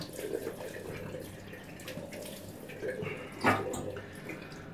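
Water runs steadily from a bathroom tap while a man rinses his face before shaving, a constant close splashing hiss with one brief louder splash partway through.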